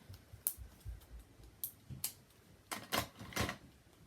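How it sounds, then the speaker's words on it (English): Plastic caps are tugged off small bottles of craft paint, making a scattered series of faint, sharp clicks and snaps. A quick cluster of pops comes near the end, with no talking. "I struggle to get these plastic caps off of these paints sometimes"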